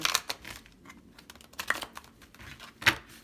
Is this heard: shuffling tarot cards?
yes